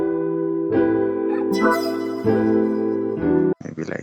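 A synth preset from the Morphine plugin in FL Studio plays a simple line of sustained, harmonically rich notes that change pitch a few times. It is loud and alone, and ends with a short, choppy burst.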